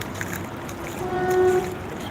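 Strong floodwater current rushing along a road in Dubai after a full day of rain, a steady broad wash with a faint tonal hum rising midway; no voices.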